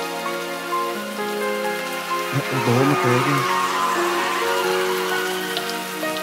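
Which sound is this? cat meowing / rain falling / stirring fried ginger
rain falling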